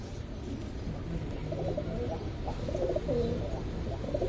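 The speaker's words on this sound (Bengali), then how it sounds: "এই যে তোতা পাঙ্কি কবুতর" Giribaz pigeons, a Tota Panki type kept by a breeder, coo close by in low, repeated burbling calls over a faint ambient hum.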